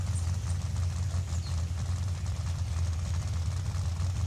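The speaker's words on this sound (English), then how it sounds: "If you guys have not heard the engine on idle" A 2015 Corvette Z06 idles in Forza Horizon 5, a steady deep rumbling drone that holds even and continuous with no revving and no talk over it.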